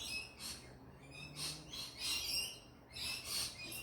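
Birds chirp outdoors in a string of high, bright tweets and calls, coming in short bursts of roughly a half second each, fairly faint and with no voices.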